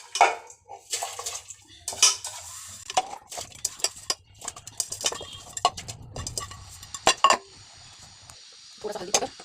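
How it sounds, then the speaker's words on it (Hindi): Dal is tipped into a cooking pot amid close metallic clinks and clatters, short pours and scraping, with someone speaking between the kitchen sounds. "इसमें दाल डाल देते हैं अब।"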